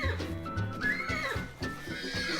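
A horse neighs in the VR fantasy combat game Blade & Sorcery, a rising, drawn-out whinny heard close over background game noise.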